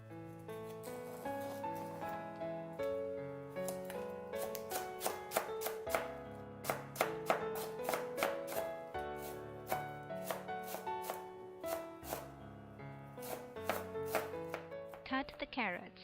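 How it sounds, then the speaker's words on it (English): A knife chops cabbage leaf stems on a board, a steady run of close, crisp cuts over background music, part of prepping a vegetarian bun filling. "Cut off the cabbage leaf stems,"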